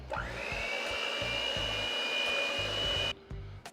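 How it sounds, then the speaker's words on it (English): An electric whisk whirs steadily and loudly through pumpkin cheesecake filling with all-purpose flour and a large egg, then cuts off, leaving a few brief knocks. "I'm gonna put in 1 large egg. I wanna whisk this together."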